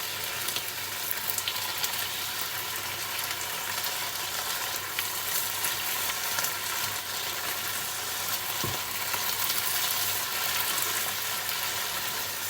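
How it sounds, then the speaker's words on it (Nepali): Saag greens and tomatoes sizzle steadily in a pan while being stirred, a constant soft frying hiss with faint watery bubbling and an occasional low knock of the spoon. "अब मजाले चलाउँदै पकाउने"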